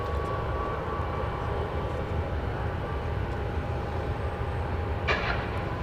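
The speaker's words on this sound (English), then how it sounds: "Got a Cessna Citation XL rolling down, just touching down from Alice, Texas." A Cessna Citation XL business jet touches down at Dallas Love Field with a continuous, moderately loud engine rumble and a short bright burst near the end, with no talking.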